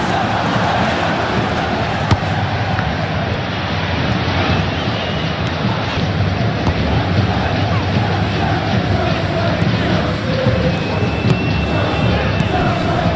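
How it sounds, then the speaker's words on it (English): Stadium crowd noise from a PES football video game during Fluminense vs Chelsea, a steady dense roar of disgruntled fans that holds throughout with no clear swells. "Well, the crowd aren't happy."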